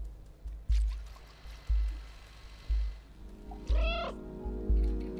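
A cat in the Stray video game gives one clear, rising meow partway through, set against a steady ambience of dripping water and regular dull, thudding steps.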